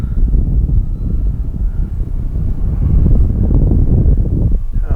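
Strong gusty wind buffets the microphone at an RC model airfield, a loud, continuous low rumble that swells and eases without a break for the whole stretch.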